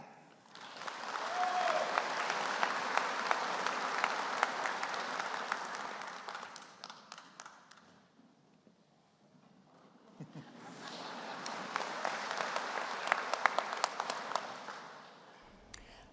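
Sustained applause fills a university graduation ceremony, swelling for several seconds, dropping away briefly, then rising again as a second long round of clapping from a large crowd.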